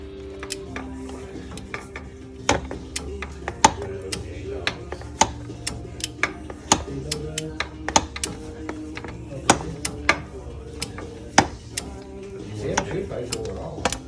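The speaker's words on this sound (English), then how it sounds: "we're torquing to 18 foot-pounds of torque" A torque wrench snugs bolts to 18 foot-pounds on a replacement water pump for a 5.9 Cummins engine, giving sharp, close metallic clicks and ratchet ticks at irregular intervals over a steady low hum and faint background noise.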